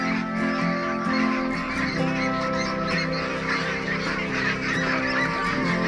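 Meat ducks on a farm of about 500 birds quack and honk loudly and continuously as a dense, overlapping flock close by.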